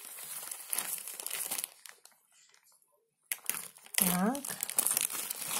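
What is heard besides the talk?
cutting open vacuum-sealed plastic packaging of a pillow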